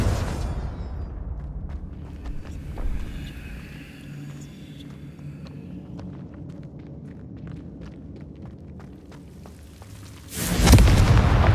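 A Confringo blasting spell from Hogwarts Legacy ends in a loud, sudden explosive burst near the end, after the low rumbling tail of an earlier blast and scattered faint clicks and footsteps.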